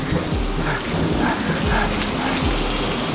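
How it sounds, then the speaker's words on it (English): A video game thunderstorm: steady heavy rain pours loudly and continuously, with low rumbles of thunder repeating underneath, no voices. "How many lightning strikes are there in a row?"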